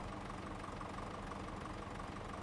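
A Massey tractor engine in a video game idles steadily, a constant low rumble with no change in pitch or rhythm throughout and no talking.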